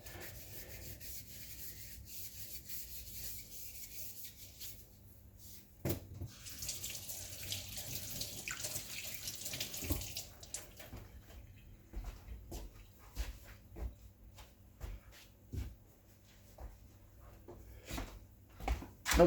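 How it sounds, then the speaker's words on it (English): A knife is washed under a running kitchen tap, water splashing and rubbing against the blade for several seconds with a louder gush in the middle, all close by and without speech. "So let's wash this here knife off here."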